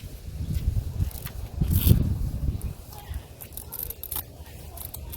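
Scissors snip and rustle close by while a zucchini plant is tied to a stake inside a tomato cage in a garden, with soft handling noises and a louder burst of cutting near the middle.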